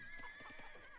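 Horse archer units in the Age of Empires II game give short neighs and whinnies over light clip-clop hooves. The sounds are faint and repeat in quick bursts, with no talk.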